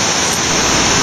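Spanish Creek rushes beneath a trail bridge, a loud, steady broadband roar of flowing water that fills the whole second with no break.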